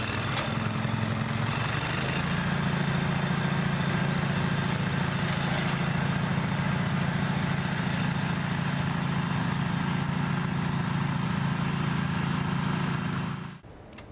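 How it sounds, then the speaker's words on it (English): Briggs & Stratton 16 horsepower V-twin petrol engine on a flail mower running steadily with a low, throbbing hum that steps up in pitch early on, then holds constant before cutting off abruptly at the end. "The Logic Flail Mower is powered by a Briggs & Stratton 16 horsepower V-twin engine"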